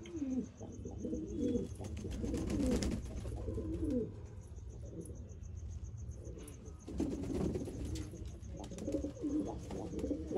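Pigeons kept as a hobby coo softly and repeatedly after rain, with low burbling calls spread across the whole stretch. Faint insect chirps and steady background hum sit underneath.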